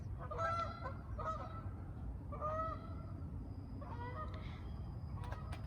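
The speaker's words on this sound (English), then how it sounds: "Getting interrupted by the Canadian geese all the time." Canada geese honking outdoors in a garden, several loud bursts of nasal honks in overlapping calls, spaced out over a steady low background rumble, moderately close, with no talking.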